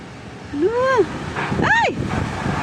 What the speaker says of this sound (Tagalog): Kusog sa hangin.